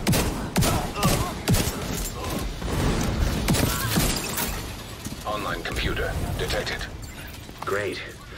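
Rapid gunfire and impacts from The Division 2 during a heroic Federal Emergency Bunker mission, dense and loud at first, then thinning under game voices and radio chatter.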